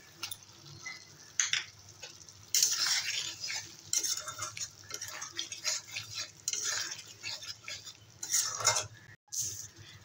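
Potatoes with salt, turmeric and Kashmiri red chilli powder being stirred and sautéed in a pan: repeated scraping and clinking of a utensil against the pan over a low sizzle, close and fairly loud, with no talk.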